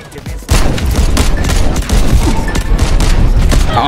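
Rapid, dense gunfire from the video game Delta Force Hawk Ops, loud and continuous with repeated sharp shots and booming impacts filling the whole moment, no talking.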